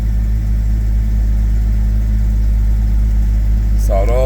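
A Jeep Cherokee XJ engine runs just after a cold start with a steady, loud, low rumble at even idle, and a voice briefly starts talking at the very end.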